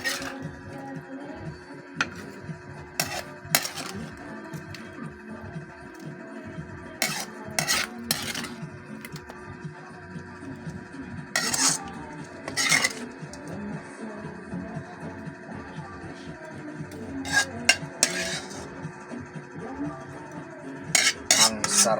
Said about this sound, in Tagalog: atin na siyang ilagay sa ating malinis na plato mga idol. Piplating na natin siya.